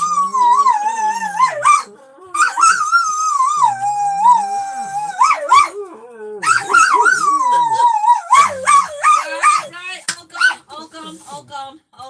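Two dogs howl together in long, wavering, overlapping tones close by, breaking into yips and whimpers toward the end, with a voice briefly audible underneath.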